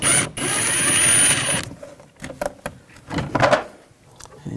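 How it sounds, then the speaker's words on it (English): A T20 socket backs a screw out of the door of a 2000-2006 BMW X5: a steady mechanical whir first, then brief scattered clicks and rattles of the tool and trim, close and fairly loud. "Remove this screw, use a T20 socket."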